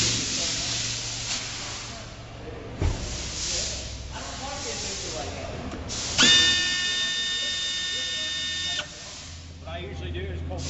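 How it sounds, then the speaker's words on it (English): Pneumatic air tool removes a 10mm nut on a Kia fuel tank filter, giving a steady hiss for several seconds after a sharp knock and some shuffling, close by, with brief talk around it. "You have air tools, that comes in handy."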